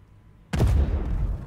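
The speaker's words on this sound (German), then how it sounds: "die Aurora? Ja, schieß sie mal ab." A spaceship being shot down in the space game Star Citizen, heard as a sudden loud booming blast that erupts out of near silence and rumbles on with crackling debris.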